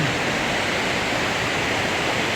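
Water rushes hard over a mini dam beneath a bridge, a loud, steady, broadband roar filling the whole moment with no voices.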